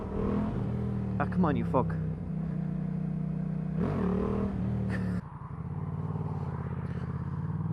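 A motorcycle revs hard during a wheelie attempt on a cold rear tire, its engine droning loudly with a sharp rising surge midway, then settling into a lower throb, while a man swears over it.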